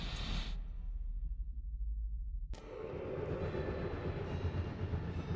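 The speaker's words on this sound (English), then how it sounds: "My Lizzie, what is this train's destination" A train rolls along in the video game Alice: Madness Returns, a steady low rumble of wheels and carriage noise that drops out briefly and then surges back in, loud and continuous with no voices.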